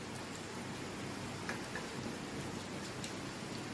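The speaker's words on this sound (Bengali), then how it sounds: "প্রচণ্ড বৃষ্টি হচ্ছে, প্রচণ্ড।" Rain falls steadily as a faint, continuous hiss with a few scattered drip-like ticks, no voices present.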